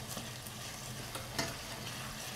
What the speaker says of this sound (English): I'm going to stir it around